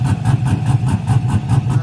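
A truck engine with an aftermarket muffler idles loud and close, its exhaust chopping in a rough, lopey pulse about three beats a second, with no voices.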